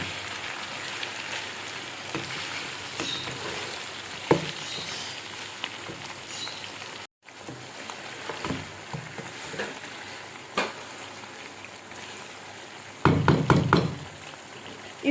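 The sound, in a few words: tomatoes frying in chicken garlic karahi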